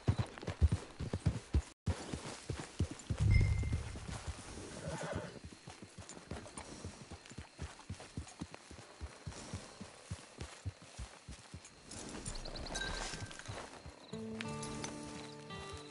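Horse in the video game Red Dead Redemption 2 whinnies and walks, with steady clip-clop hoofbeats continuing throughout, a loud neigh near the start and game ambience and music underneath.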